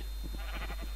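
Sheep in the Minecraft video game give a short series of bleats, four or five quick pulses within a second, loud and close over a steady electronic hum.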